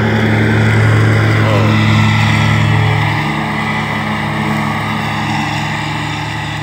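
A tractor mows grass on a lawn at a house in Kensington, Prince Edward Island, its loud, steady engine drone close by, dipping slightly after a few seconds and then continuing at a lower level.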